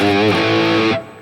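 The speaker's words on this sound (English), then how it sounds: "My favorite amp in the NUX here, the 5150 model." An electric guitar played through the 5150 amp model on a NUX MG-30 rings out as a single loud, distorted high-gain chord held for about a second, then cut off abruptly.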